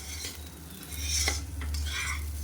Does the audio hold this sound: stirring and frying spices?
yes